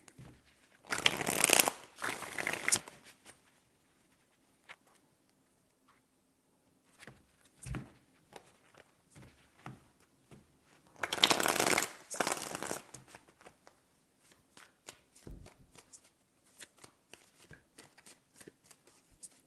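Tarot cards are shuffled by hand in two longer riffling bursts, with a few lighter taps and shuffles in between, close and clear against a quiet room.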